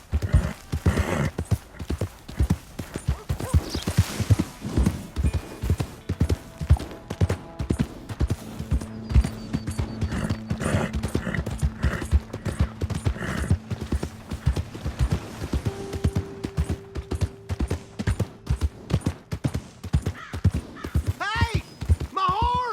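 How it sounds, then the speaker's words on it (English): Horse hooves clip-clopping steadily in the Red Dead Redemption 2 video game, a close, rhythmic trot running throughout with occasional whinnies, while characters talk over it. "Hey! My horse!"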